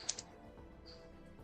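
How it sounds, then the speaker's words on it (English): A couple of quick, sharp keyboard clicks at the start, then a quiet hum with faint tapping near the end. "excuse that typing,"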